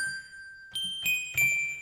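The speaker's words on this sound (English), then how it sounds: "Okay, so we found the bell using the Pure Synth Platinum." Bright synthesizer bell notes from a Pure Synth Platinum in BeatMaker 3 ring out one after another, three clear chimes with long, shimmering sustain and no talking.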